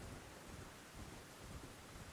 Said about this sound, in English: I'm really getting tired of all the rain.